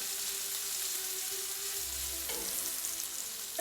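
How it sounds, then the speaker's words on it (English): Onions sweating gently in a pan with a soft, steady sizzle, a wooden spoon stirring through them with a brief scrape near the end; no talking. "Now you really don't want color on these onions,"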